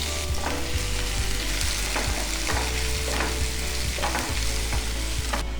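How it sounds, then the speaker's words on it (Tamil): Finely chopped onions fry in oil with popped mustard seeds for a fish curry, a loud steady sizzle broken by regular spatula scrapes against the pan, close and without speech. "இப்போ பொடி பொடியாக கட் பண்ண வெங்காயத்தை போட்டு நல்லா வதக்கணும்."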